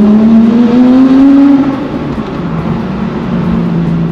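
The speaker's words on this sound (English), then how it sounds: "Race car!" A loud Porsche 997.2 GT3 engine drones close by, its pitch climbing slightly then settling into a rough, steady roar.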